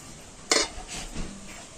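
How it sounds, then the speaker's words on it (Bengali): Two balls of biscuit dough, one plain and one mixed with cocoa powder, being covered with a lid in a home kitchen: a sharp clink of the lid at the start, then softer scraping and settling knocks, close and brief. "আর এখন আমি এই ডো দুটোকে ঢাকা দিয়ে 10 মিনিটের জন্য রেখে দেব।"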